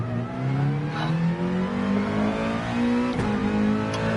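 A racing car engine in a video game roars at full throttle, its pitch climbing steadily as it accelerates, loud and continuous with a brief gear-change dip near the end, no voices.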